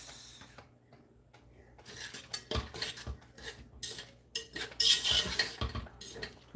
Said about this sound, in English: So, I'm just stirring up them green beans.